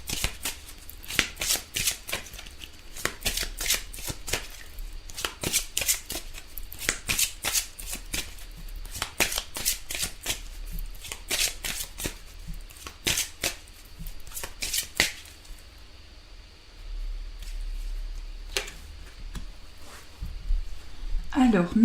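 Tarot cards being shuffled close up in repeated riffling bursts, crisp papery flutters coming in quick clusters for about fifteen seconds, then a pause with a few faint taps, and no voice.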